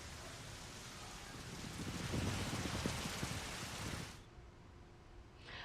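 Rain falling in the hill states, a steady broadband hiss of rainfall that swells slightly in the middle before dropping off near the end, with no voices.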